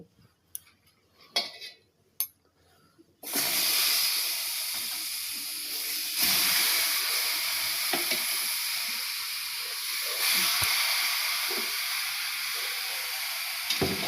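Chopped tomato pieces drop into a hot wok (kadai) after a few quiet clicks, setting off a sudden loud hiss that settles into a steady, close sizzle with occasional small pops.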